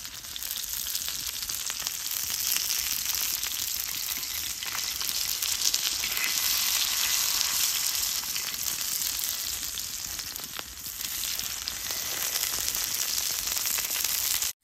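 Fish pieces fry in hot oil with a loud, continuous crackling sizzle and fine spattering that holds steady for the whole stretch, with no voices.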